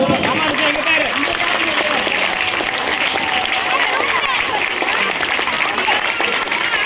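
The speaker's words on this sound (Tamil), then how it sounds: "ஒரு இன்னொரு வாட்டி ஒரு கரகோஷத்தை ப்ளீஸ்" Dense crowd applause at an outdoor community event in SSM Nagar, a continuous loud wash of many hands with voices mixed in throughout.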